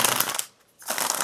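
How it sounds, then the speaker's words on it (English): Tarot cards shuffled on a hard surface laid over a tablecloth, two dense riffling bursts separated by a brief pause, close and fairly loud with no talking. "it's really difficult to shuffle on top of this tablecloth"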